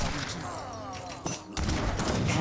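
Battle gunfire from Age of Empires 3, Swedish forces with falconets against a Chinese army: a dense, continuous wash of musket and cannon fire with thuds, loud and sustained, briefly dipping before surging back.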